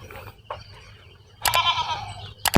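Goats bleat loudly a couple of times close by, with a quieter call earlier, over a low steady hum and faint background noise.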